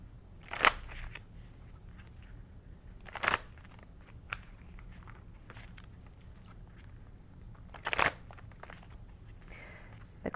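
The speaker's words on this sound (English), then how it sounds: "The cards are being a little bit resistant and shuffling together." Quiet crisp riffles of tarot cards being shuffled, slightly resistant, three distinct bursts spaced apart, with faint rustling and handling noise in between.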